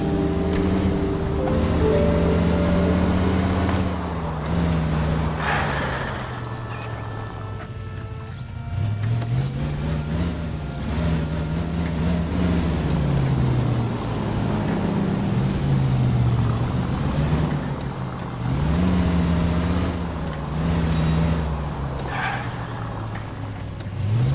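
Continuous car engine drone while driving in L.A. Noire, steady and loud with rising and falling revs, layered with road and wind rumble; no voices.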